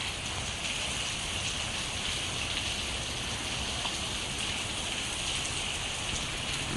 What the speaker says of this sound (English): The rain is definitely picking up.